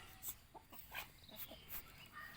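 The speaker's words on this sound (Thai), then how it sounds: "ไก่ที่บ้านนะครับ" Backyard chickens at a rural home feeding area in Thailand give scattered faint clucks, a few soft calls at middle distance over quiet outdoor background.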